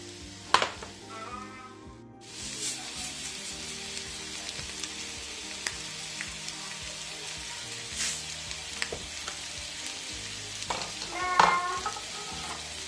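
Onions frying in olive oil in a pan hiss softly and steadily, with occasional scrapes and clinks of stirring and a brief louder clatter near the end, heard without talking.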